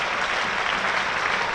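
Spectators at a Hampshire v Worcestershire Rapids one-day cup quarter-final clap together in a steady, loud burst of applause that fills the stands without pause.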